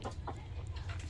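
Hens and a rooster cluck in a farmyard in short, soft, irregular calls over a low steady hum, fairly faint and close.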